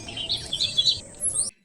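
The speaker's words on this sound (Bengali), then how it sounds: "তো এই সমস্ত পাখির ডাক কিচিমিচিরে আপনার ঘুম ভাঙবে" Birds chirp and trill in a forest resort near a river at Bangriposi, a dense run of high, bright calls that cut off abruptly near the end.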